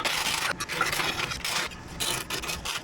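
A piece of aluminum is cut out for a truck's gas pedal bracket, making a harsh rasping cut in short repeated strokes with brief pauses between them, close and loud, no voices.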